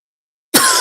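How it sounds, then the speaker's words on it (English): One sharp, close cough bursts out after a moment of silence, loud and raspy. "I still have the cough"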